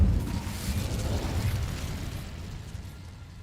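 Incendio fire spell cast in Hogwarts Legacy gives a loud deep whoosh-boom burst at the start, then a rumbling roar that fades gradually over about three seconds.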